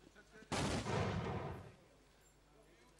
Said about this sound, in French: Oh, belle grenade de Cuben.